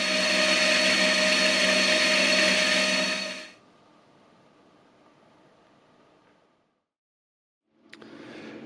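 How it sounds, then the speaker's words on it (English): A milling machine cuts a solid 40 mm square steel bar at 1 mm depth and 10 mm width, giving a loud steady whining drone that drops off to a quieter hum, falls silent, then starts up again. "40mm square steel, solid, and I'm milling 1mm deep and 10mm wide."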